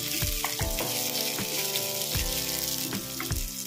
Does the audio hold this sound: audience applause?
no